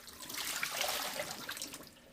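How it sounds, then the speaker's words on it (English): Hot Essiac herbal tea pours in a steady, close splashing stream into preheated glass jars, a continuous liquid rush with no talking. "Now we're ready to pour in the Essiac tea in the jars"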